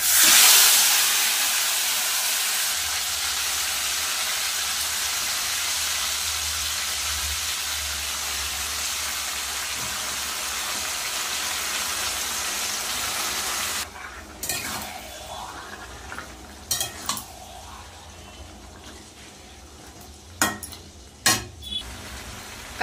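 Red taro greens hitting hot mustard oil tempered with bay leaf and whole cumin, a loud steady sizzle and frying hiss that gradually softens, followed by several sharp stirring scrapes and clinks of a utensil in the pan.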